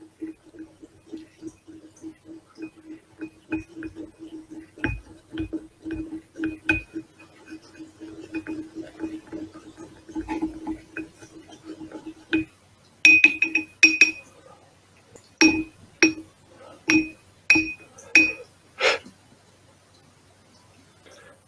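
A tool stirring an Elmer's glue mixture inside a glass apothecary jar, producing a string of sharp glassy clinks and taps, sparse at first and then louder, quicker bursts near the end, close and with no voices.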